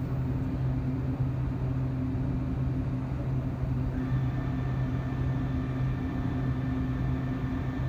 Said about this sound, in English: I want you guys to listen to this viscosity control